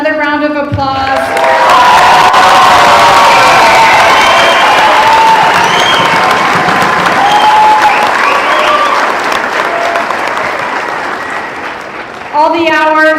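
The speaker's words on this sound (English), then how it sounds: "Can we give them another round of applause?" A large audience applauds at a cadet graduation, dense sustained clapping with some cheering that swells and then tapers off, talk heard briefly at the start and end.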